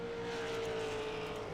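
Race cars running on a track, heard as a steady, moderately loud engine drone with a sustained tonal whine, like cars passing continuously at a distance, with no talk in the moment.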